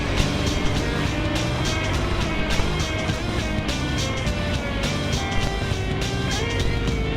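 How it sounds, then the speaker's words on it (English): A Porsche race car in a racing game holds a steady, loud engine roar with a buzzing harmonic whine as it drives through turn 3, continuous throughout. "here comes the Porsche doing the flippin' speed limit through turn 3"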